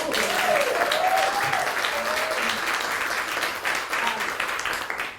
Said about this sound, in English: Give Lisa a hand clap